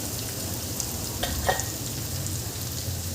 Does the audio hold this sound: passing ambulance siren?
no